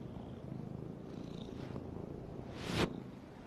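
A cat purrs steadily and softly at close range while being scratched and petted, a low continuous rumble that ends with a brief brushing rustle near the end.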